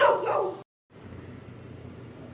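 A dog barks close by outside a house, one loud bark burst at the start, then only quiet outdoor background.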